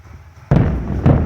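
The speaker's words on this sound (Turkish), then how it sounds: "Bakın patlama olacak şu an." Two heavy booming blasts half a second apart, each a sudden loud thud with a rolling tail, like distant howitzer shell explosions, over Kilis, Turkey.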